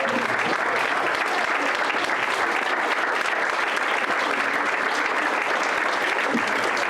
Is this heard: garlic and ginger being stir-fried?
no